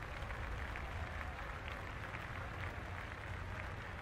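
Steady crowd applause from a cricket stadium in the video game Cricket 22, a soft distant wash of clapping held evenly throughout without breaks.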